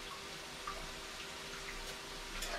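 Tap water runs steadily over food being washed in a kitchen sink before cooking a vegetable stew, a continuous close splashing hiss with slight shifts as the food moves under the stream.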